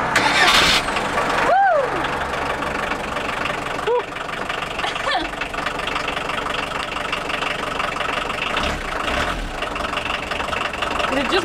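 A Volkswagen T25 van engine fitted with a new starter motor cranks and fires, then settles into a steady mid-pitched idle, close and loud, with people talking over it.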